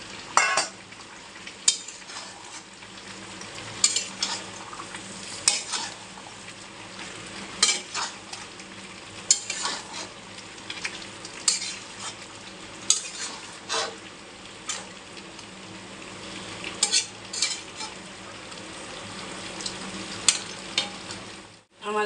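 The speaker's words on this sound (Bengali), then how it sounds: "আলুটা দিয়ে দেবো। কষানো প্রায় হয়েই গেছে।" Chicken and fried potatoes sautéed in a pan, a continuous moderate sizzle broken by frequent scraping and clinking strokes of a spoon stirring against metal throughout.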